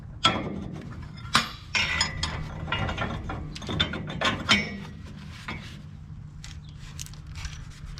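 A ratchet tightens nuts onto the U-bolts of a utility trailer's leaf spring, with close, irregular bursts of clicking pawl strokes and metallic clinks, pausing between runs.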